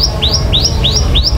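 A bird calls from a rooftop with a rhythmic series of rising chirps, about six in quick succession, loud and close over a low background hum.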